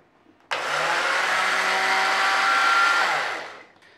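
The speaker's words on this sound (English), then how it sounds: "And then you blend the rest" A kitchen blender whirs loudly and steadily for about three seconds as it blends oats for a traditional Yorkshire parkin cake, starting abruptly and winding down at the end, with no talking.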